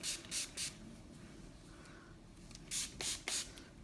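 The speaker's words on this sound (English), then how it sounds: "I'm going to take my favorite product on earth, sea salt spray. And then I'm going to spray that throughout." Sea salt spray is misted onto hair while it is scrunched into beach waves, heard as five short pump sprays in two close bursts, with quiet hiss and rustling between them.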